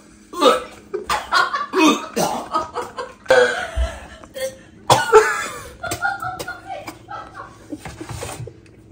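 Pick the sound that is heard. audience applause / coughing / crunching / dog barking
coughing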